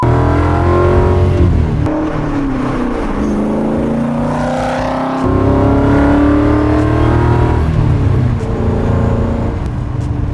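The engine of a supercharged Superformance Ford GT40 revs repeatedly, loud and close, its pitch climbing and dropping through several sweeping pulls with a brief lift-off dip in between.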